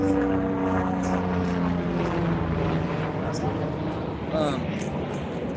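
Helicopters fly overhead, a droning engine and rotor tone with steady harmonic buzz that shifts slightly in pitch, with a person talking over the noise.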